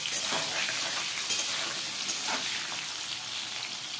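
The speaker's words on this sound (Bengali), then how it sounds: "ফ্লেমটাকে কিন্তু বাড়িয়ে দিয়েই ভাজবেন।" Teasel gourd and potatoes with a little salt fry in a pan over a high flame, giving a steady, loud, close sizzle with soft stirring scrapes throughout.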